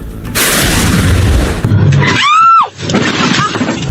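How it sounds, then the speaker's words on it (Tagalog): Several loud gunshots from police firing at a white AUV during a chase on a highway in Bacoor, Cavite, sharp booms amid traffic-like noise with a brief screeching tone in the middle. "Umalingaw-ngaw ang sunod-sunod na putok ng baril mula sa pulis na humahabol sa puting AUV"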